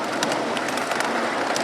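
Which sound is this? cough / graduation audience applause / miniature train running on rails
miniature train running on rails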